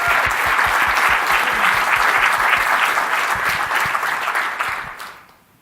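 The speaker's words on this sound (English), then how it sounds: "So I'd just like to give her a quick round of applause." A conference audience gives a round of applause, dense steady clapping that stays loud for about five seconds before tapering quickly to silence.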